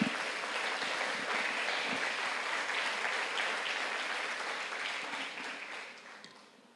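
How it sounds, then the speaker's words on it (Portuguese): A church congregation gives a sustained round of applause during a service, the dense clapping holding steady before fading out toward the end. "Dê uma salva de palmas, Espírito Santo."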